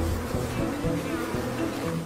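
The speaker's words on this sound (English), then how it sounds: "A swarm of angry bees isn't the best lullaby for a tired wild dog." An angry swarm of African bees defending their nest, a dense continuous buzzing drone with wingbeat hum pulsing steadily and close throughout.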